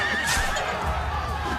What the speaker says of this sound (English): I don't want to hit that horse